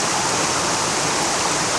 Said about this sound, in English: There's this one tiny stream coming off, and there's this cascade over this rock